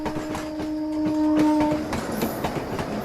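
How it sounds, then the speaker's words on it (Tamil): A train pulls in along a railway line in a Tamil action film, wheels clattering in a steady rhythm with a sustained horn-like tone early on, moderately loud and nearby, with no voices. "ட்ரெயின் வந்துருச்சு."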